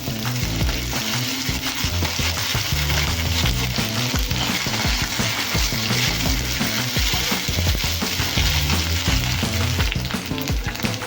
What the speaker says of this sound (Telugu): ఇప్పుడు ఫ్రై చేసుకోవాలి.